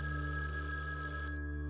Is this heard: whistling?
no